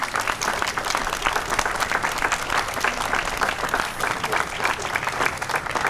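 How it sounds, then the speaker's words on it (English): An audience at Memorial Day services applauds veterans with sustained, dense clapping at a steady level, unbroken for the whole stretch. "Please give them a round of applause."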